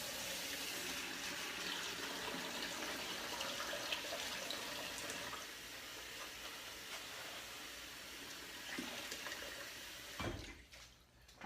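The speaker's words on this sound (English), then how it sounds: "Now it's to wash the spinach" Tap water runs steadily into a sink while fresh organic spinach is washed, a constant soft rushing hiss that continues for several seconds and then cuts off near the end.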